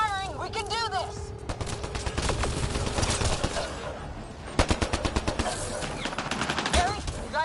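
Rapid automatic gunfire from a Mass Effect Andromeda firefight, dense bursts and single shots crackling throughout, with sharper, louder volleys near the end, over music and shouted voices.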